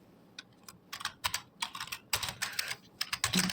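Someone types on a computer keyboard in Notepad, producing a fast, irregular run of close, crisp key clicks with brief pauses.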